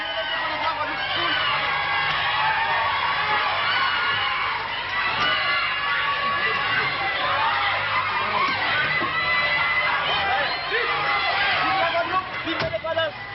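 Small crowd of independence supporters shouting slogans outside a courthouse, held back by police in 1987; a busy mix of raised voices and cheering continues steadily, with a narrator speaking over it.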